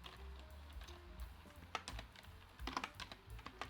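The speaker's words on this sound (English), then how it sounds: "Let me just quickly type in that." Keys clatter on a computer keyboard in irregular quick bursts and single taps, close and fairly quiet, during data entry for a building development schedule in project management software.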